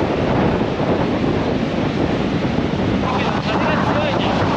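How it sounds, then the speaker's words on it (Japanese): Strong onshore wind at Shonan beach buffets the microphone with a loud, constant broadband roar, with surf mixed in underneath and no pauses throughout. "まだ全然風は止まってないんだけど、 吹いてますね、まだ。"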